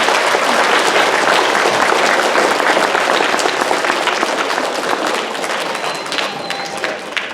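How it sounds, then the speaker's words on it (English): An audience at a children's songwriting concert applauds the parents, sustained loud clapping from a crowd that holds steady and then thins slightly toward the end. "Kids, how about a huge round of applause for your parents?"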